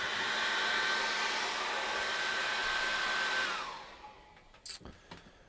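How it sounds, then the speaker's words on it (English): A hair dryer blows with a steady high whir for several seconds, then switches off, followed by a few soft clicks and handling noises. "let's dry that off with a hairdryer"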